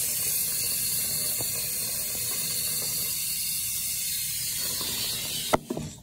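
A bathroom tap runs steadily to wet a toothbrush, a continuous hissing water stream with a few faint clicks, ending in a sharp knock as the flow cuts off.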